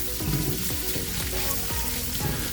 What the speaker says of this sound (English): just fry this up in that garlic onion flavor